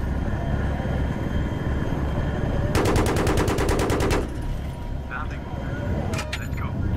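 Rapid automatic gunfire in Battlefield 3 rattles out in a dense burst of evenly spaced shots lasting over a second, set against a constant roar of aircraft engine and battlefield noise, with a few scattered single shots afterward.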